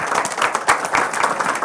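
Audience applause at a town hall meeting, a dense burst of many hands clapping, loud and close, with no pause.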